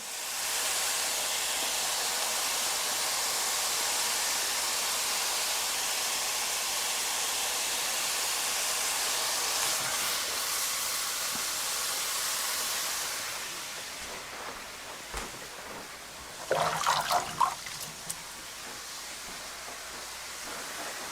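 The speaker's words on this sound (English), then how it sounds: "So I have about half of the meat in here. And we're going to get that nice and browned up." Ground meat browning in a pot for chili, a broad steady sizzling hiss that dominates, then fades toward the end, where a few short clattering stirring noises break through.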